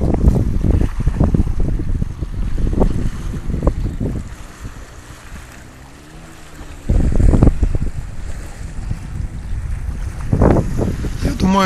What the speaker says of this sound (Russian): Слышите море? Слышите, как дышит море?